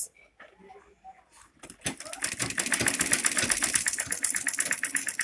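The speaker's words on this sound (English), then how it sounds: "What I'm going to do now is to sew it round till the end." A sewing machine stitches fabric for a baby nest, starting after a few quiet handling noises and then running in a fast, steady mechanical rattle up close.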